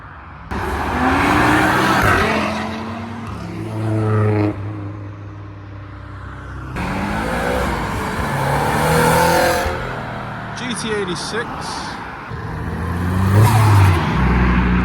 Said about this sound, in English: turbo flutter from the Punto Fiesta behind